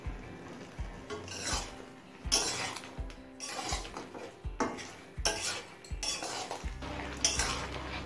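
Pot lid lifted off and metal utensils clinking and scraping against a pot of simmered taro leaves, a series of close, sharp knocks and rasping strokes at irregular intervals, with no talk.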